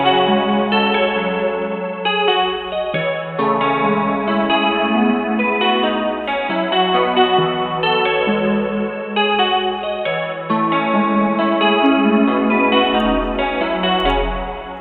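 Sustained synth chords roll in a steady progression, heavily washed in reverb and chorus, full and continuous with a low bass pulse underneath and no voices.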